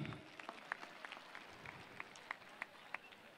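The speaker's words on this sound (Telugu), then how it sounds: "చప్పట్లు కొట్టండి అందరూ ఆ బాబుకి." Faint, scattered applause from a school audience cheering a boy standing on a chair, soft overall with a few sharper claps rising above a thin, steady patter.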